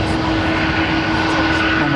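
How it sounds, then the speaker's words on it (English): Airliner with old Pratt & Whitney engines spooling up at London Heathrow, a steady loud roar with a constant drone throughout, with someone speaking over it. "Listen to this thing, man. These are Pratt & Whitney engines."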